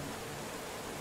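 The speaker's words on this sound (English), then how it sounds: "Alright, so it's raining today." Steady rain falls outdoors, an even, close hiss of drops with no breaks or other sounds over about a second.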